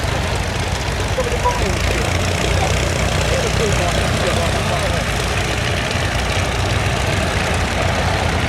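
A historic aircraft climbs away just after takeoff at the Little Gransden air and car show, its engine a loud, steady, broad roar heard throughout, with a commentator talking over it.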